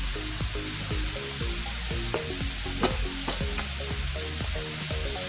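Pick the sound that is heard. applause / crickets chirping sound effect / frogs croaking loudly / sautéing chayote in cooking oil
sautéing chayote in cooking oil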